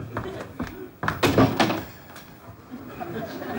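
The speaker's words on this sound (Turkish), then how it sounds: "Ne yumrukluyorsun kapıyı?" A fist pounds heavily on a door in a home with a doorbell beside it, a short burst of loud thuds near the middle, with a voice present around the blows.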